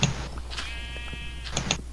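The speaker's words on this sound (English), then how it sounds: "we have an actual sheep" A Minecraft sheep bleats once, a wavering nasal tone about a second long, set against a steady hum and scattered clicks from gameplay, with no speech.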